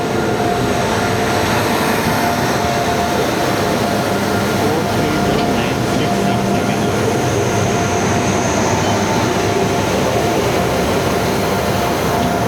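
A freight train loaded with coal-like cargo, hauled by twin locomotives, rumbles past close by, a steady heavy roar of wagons rolling on the rails with no break throughout.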